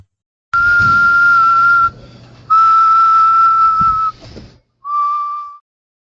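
A small folk whistle plays three sustained, steady high notes, the last one shorter, with brief pauses between them and no voices.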